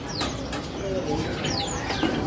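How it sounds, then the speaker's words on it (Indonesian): A white zebra dove (perkutut putih) coos softly at a bird kiosk, with other small birds chirping around it and people talking nearby. "Kalau ini perkutut putih."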